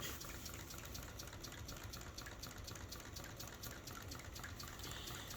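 A PM Research Rider-Ericsson scale-model hot air engine pumping water, giving a steady, continuous mechanical whir with a rapid rhythmic chatter and watery gushing, close and moderately quiet throughout.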